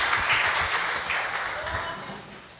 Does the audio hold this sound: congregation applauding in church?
yes